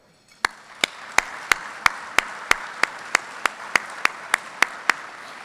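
At a fire department meritorious awards ceremony, sharp, evenly spaced single claps ring out about three per second, loud and distinct over a faint background hum.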